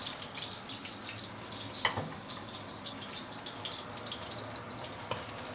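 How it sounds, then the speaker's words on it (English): Shallot, garlic, ginger and coriander roots sauté in hot oil, giving a soft, steady sizzle with an occasional faint pop, fairly quiet and alone. "Once the oil is heated up, you can put in the shallot, garlic, and also ginger and fresh coriander roots"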